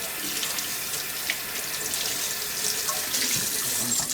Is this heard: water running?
yes